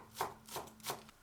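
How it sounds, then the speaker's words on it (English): A knife chops green onion on a board in three distinct, evenly spaced soft strikes, close and quiet, with no voices. "Chop 1 green onion"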